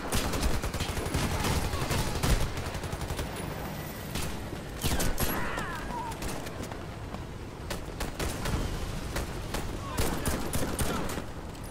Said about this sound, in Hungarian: Mindig csak a hullákba lövök bele.